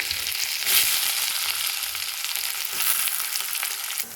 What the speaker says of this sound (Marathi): कांदा मिरची टाकून घेतलेली आहे ते छान आपल्याला परसून घ्यायची आहे कांदा छान भाजला पाहिजे